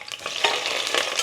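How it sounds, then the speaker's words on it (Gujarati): Green chillies fry in a pan with a loud, dense, continuous crackling sizzle and a few stirring scrapes, close up and with no voices. "ચાલો હવે આમાં આપણે નાખીશું ફર્સ્ટ લીલા મરચાં જે ફ્રાય કરવાના છે"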